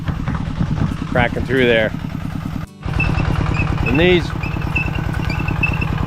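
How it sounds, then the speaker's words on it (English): A tractor engine belted to a centrifugal irrigation pump runs steadily with a low, even chugging pulse throughout, and voices talk over it. "So the engine that normally moves the tractor is just hooked up with an extra belt to the pulley that's on this centrifugal pump"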